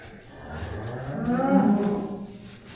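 A single cow moos nearby in a barn, a low drawn-out call that swells and fades over a couple of seconds.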